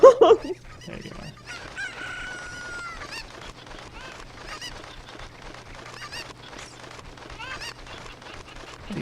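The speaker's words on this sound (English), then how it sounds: "These chickens are behaving." Chickens cluck and crow in the video game Ocarina of Time, a busy stream of short calls running steadily over a low constant game hum.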